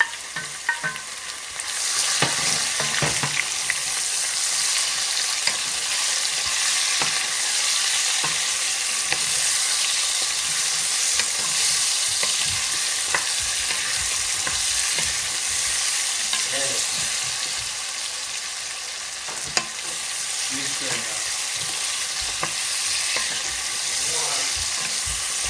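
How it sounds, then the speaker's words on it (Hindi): Sweet pumpkin fries with light-brown onions in a pan, a dense, loud, continuous sizzle with occasional clicks and stirring scrapes throughout, no voices over it. "प्याज लाइट ब्राउन हो गई है और हम इसके अंदर ये कद्दू डाल देंगे, मीठा कद्दू।"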